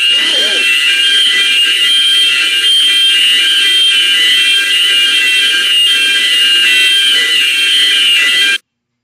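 A loud ship engineer's call alarm buzzes continuously on one steady tone for several seconds, then cuts off abruptly.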